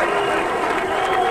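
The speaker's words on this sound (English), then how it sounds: "Some booing" A boxing arena crowd reacting to a referee's decision, a sustained roar of mixed voices and some booing, steady and fairly loud throughout with no single voice standing out.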